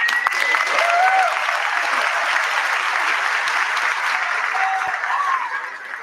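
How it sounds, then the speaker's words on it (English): A graduation convocation audience at a nursing school claps in sustained, dense applause that fills a large hall, with a few whistles and cheers rising above it before it fades slightly at the end. "give a round of applause because we have made it"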